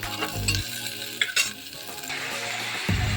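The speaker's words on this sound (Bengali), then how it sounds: "পুরো সবজি, চিকেন, একটু হলুদ গুঁড়ো, একটু মানে গোলমরিচের গুঁড়ো সব দিয়ে আমি একটু ভাজা ভাজা করে" Vegetables and chicken with turmeric and black pepper fry in a pressure cooker for a chicken stew, with a steady close sizzle and a few stirring scrapes and knocks against the metal pot.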